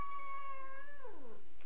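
A pet cat sitting on its owner's lap lets out one long, drawn-out meow that slides downward at the end, close and clear with no talking.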